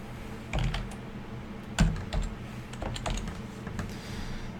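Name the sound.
typing on a computer keyboard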